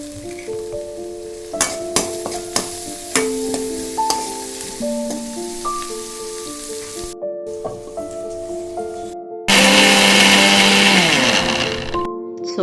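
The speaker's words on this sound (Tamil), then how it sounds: "கட் பண்ணியிருக்க வெங்காயத்தை வந்து நல்லா போட்டுக்கணும். இது கூடவே வந்து கருவேப்பிலையும் போட்டுக்கணும்" Onions and curry leaves fry in sesame oil with fennel for a jackfruit seed curry, a steady loud sizzle with repeated stirring knocks and tonal scraping. Near the end a sudden burst of louder, harsher sizzling appears.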